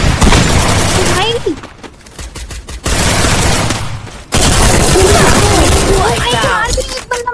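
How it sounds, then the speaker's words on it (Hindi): Gunfire in the mobile battle-royale game Free Fire, loud bursts of shots and rapid fire mixed with impacts, repeatedly interrupted by brief gaps, with players talking excitedly over the action. "गोली चल गया मेरे से"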